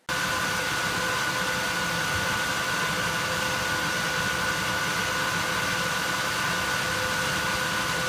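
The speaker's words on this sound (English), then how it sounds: "It also has a 300 watt PSU for those of you wondering" The 300-watt power supply and cooling fan of an old Core 2 Duo desktop PC give off a steady, close whooshing hum with a faint tonal whine. It runs unchanged throughout, with no talking.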